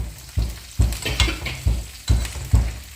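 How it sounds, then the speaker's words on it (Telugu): Dried red chillies frying in oil in a pan crackle with a constant hiss. About six rhythmic scraping stirs, close and loud, land roughly every half second. "నూనె వేసావు. ఆ ఎండుమిరపకాయలు వేయిస్తావమ్మా?"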